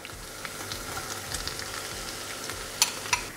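Marinated honey mushrooms fry in a pan, giving a steady, fairly quiet sizzle with a few brief crackles and pops near the end and no voices.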